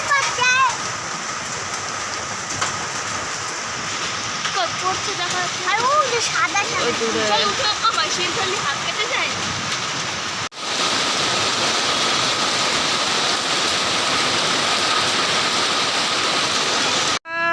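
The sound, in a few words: heavy rain with hail falling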